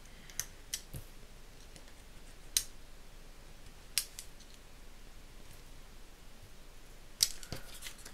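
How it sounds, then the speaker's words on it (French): Scissors make sparse, faint snips while cutting small paper details for a vintage sewing-themed card, a handful of isolated crisp clicks spread apart in a quiet room. "je découpe parce qu'il y a plein de petits détails à découper"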